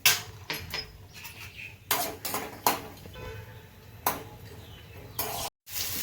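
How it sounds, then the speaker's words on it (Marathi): Peanuts are roasted in oil in a pan, heard as scattered clinks and scrapes of a utensil against metal over a faint sizzle, close up with no talking. "आता आपण थोडेसे शेंगदाणे परतून घेऊया."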